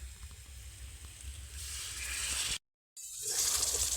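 Water poured into frying masala for a brinjal curry, producing a steady close hiss and sizzle that swells louder, briefly cuts out, then returns stronger.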